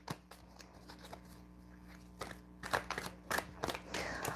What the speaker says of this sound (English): I'm going to also shuffle our oracle cards